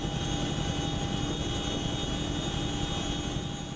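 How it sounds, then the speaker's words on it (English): A CH-47 Chinook helicopter hovers low over water at an extraction spot, its steady loud rotor and engine roar continuous and close, without a break, with no voices. "A CH-47 Chinook hovers precisely above the planned extraction spot in a body of water."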